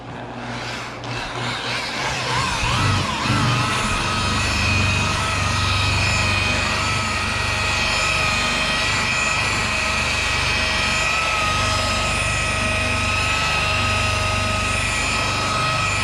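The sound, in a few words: buffing a Dodge Ram with a spinning buffer wheel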